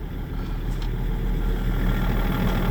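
Range Rover L322 engine idling after being shifted into gear, a steady low rumble with a constant even drone throughout, close and moderately loud with no talking.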